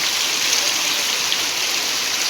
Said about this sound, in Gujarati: અમારે ત્યાં જોરદાર વરસાદ છે